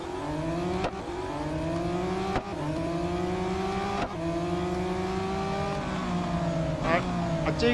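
Race car engine in the Real Racing 3 game on the short Hockenheimring circuit, a steady loud whine rising and falling through repeated gear shifts with brief dips between, running continuously.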